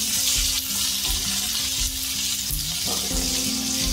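Okra and garlic sizzle in a hot pan, a loud, continuous crackling fry with occasional stirring scrapes and no talking.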